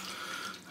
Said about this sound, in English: I'll get some water in there.